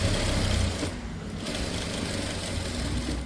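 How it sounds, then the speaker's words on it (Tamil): Sewing machine running steadily while stitching a blouse, a continuous close whirring rattle with a short dip in speed near the start, loud and alone without speech. "அப்போ இது மேலே தான் நம்ம இப்போ படிமான் தையல் போடுறோம்."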